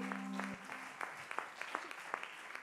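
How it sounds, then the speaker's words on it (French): Faint audience applause for a band at a startup festival, a few separate claps following a short fading tone, quiet and somewhat distant. "on peut les applaudir bien fort."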